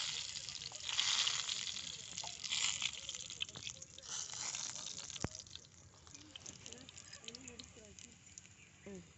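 Tamarind water is poured into a pan for rasam, giving a splashing, gushing pour early on that fades to softer liquid patter. People can be heard talking over it.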